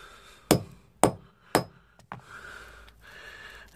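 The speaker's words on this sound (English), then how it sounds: "I just hit it with the hammer." Hammer striking a rusty coin, three sharp, loud metallic blows at a steady half-second pace, followed by a softer tap and faint scraping and handling sounds.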